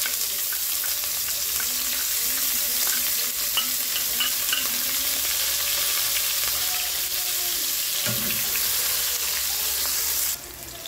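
Ginger, onion and tomato frying together in a pan, a continuous sizzle with the scrape and clatter of stirring, moderately close, easing off near the end.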